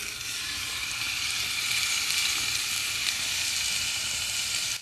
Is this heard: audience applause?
no